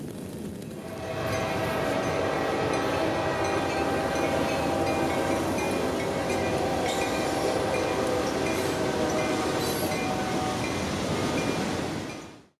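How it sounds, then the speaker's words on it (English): A CSX freight train rolls steadily past Valrico Junction near Tampa on a chilly January morning, a continuous broad rumble of wheels and cars with faint squeals, loud and close throughout and fading at the end. "We're here at Valrico Junction on a chilly January morning waiting on K339, now symboled B339."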